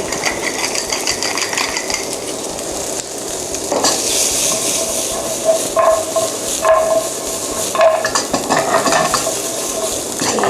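Vegetables seasoned with salt and pepper being stir-fried in a pan, with a continuous scraping, clattering stir of a spatula and a steady sizzle throughout, louder bursts at intervals.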